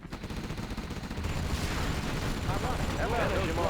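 Rocket pods firing in Command & Conquer Zero Hour, a dense crackle of rapid launches and explosions that builds into a continuous roar of gunfire, mixed with game voice lines.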